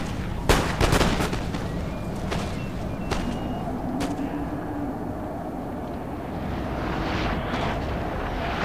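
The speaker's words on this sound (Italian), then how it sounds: "stanno continuando a martellare su questa unità, come naturalmente sta facendo anche con i suoi cannoni." Cannon and artillery fire in the Napoleon Total War battle at the Arcole bridge: several sharp booming shots early on, then scattered distant reports over a steady rumbling battlefield ambience.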